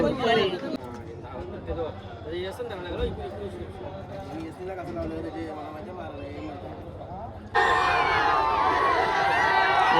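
A crowd at a village race ground cheers and celebrates, with excited voices and chatter close by under steady talk, swelling abruptly into a louder, brighter roar near the end.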